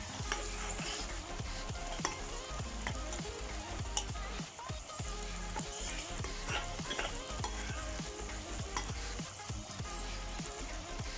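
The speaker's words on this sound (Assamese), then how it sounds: "আপুনি ভাজি থোৱা মাছৰ মাথাখিনি তাতে দি দিম।" Steady, dense sizzling of fish heads frying in hot ghee, with frequent scraping and stirring clatter throughout, loud and close.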